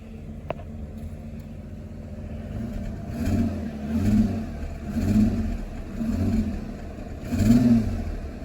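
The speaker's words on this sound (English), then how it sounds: "Do you want to give it a couple of revs?" A WH Holden Caprice barn find engine revs in several rising and falling bursts, each swell roughly a second apart, running rough as if missing on one cylinder, close by with no talking.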